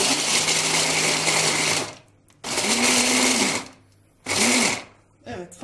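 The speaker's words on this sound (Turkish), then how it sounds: "Onun için şöyle irice rondodan geçireceğim." A food processor whirs loudly in two long bursts with a pause between, then a shorter third burst, each ending abruptly.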